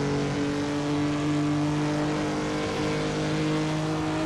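A Formula Junior race car engine in Assetto Corsa, on board at the Feldbergring, drones loud and continuous as it holds high revs, with no talk over it.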